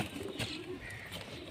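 Pet pigeons cooing softly while eating grain, with low murmuring coos and faint pecking close by in a quiet space.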